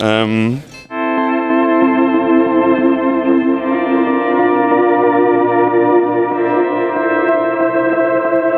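A semi-overdriven electric guitar effects patch with a pad-like tone rings out as one sustained, layered chord after a brief pick attack, held evenly and loud with a smooth, slightly distorted shimmer.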